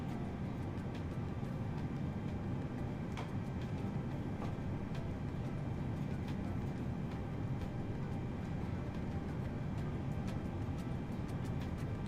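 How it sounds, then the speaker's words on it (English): Engine number 2 of an Airbus A320 spools up in Microsoft Flight Simulator with a steady, faint whine and low rumble, broad and even from start to end. "Gonna fire up engine number 2 first."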